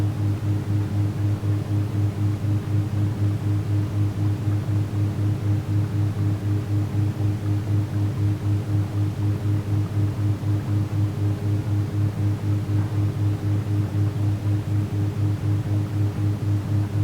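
Steady hiss of static with a low, constant hum underneath, unchanging and continuous from start to finish.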